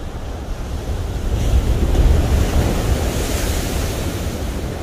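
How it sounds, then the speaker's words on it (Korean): Strong ocean waves break at Samcheok port in Korea, a loud continuous rushing surf with wind buffeting the microphone, swelling slightly midway and carrying on with no voices. "지금 뒤에 파도가 엄청나네요."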